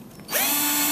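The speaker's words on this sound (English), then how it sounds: "start drilling where you mark the holes." A power drill with a 1/8-inch bit whirs up sharply after a brief quiet moment and holds a steady, loud, high-pitched spin for the rest of the second.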